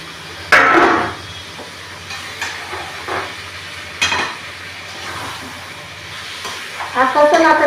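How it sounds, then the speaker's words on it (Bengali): Marinated chicken sizzles and spatters in a hot wok while being stirred, with sharp bursts of frying and scraping strokes against a steady hiss, close and moderately loud. "ম্যারিনেট করা মাংসটা আস্তে আস্তে এই মাংসটা কড়াতে দিয়ে দিলাম"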